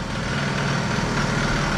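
A Stage6 65 boosted scooter engine idles with a steady, dense buzzing drone, loud and close, running evenly without change and with no talking.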